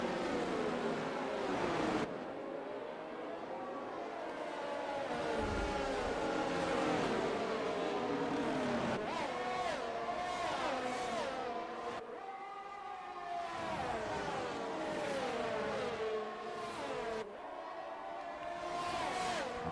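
Formula 1 race cars from the F1 2022 video game circuit the Belgian track, several engines whining and shifting pitch as they pass, with a steady crowd-like roar beneath, loud and continuous.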